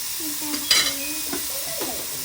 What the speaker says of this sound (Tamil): நண்டு நல்லா வதக்கிங்கண்ணே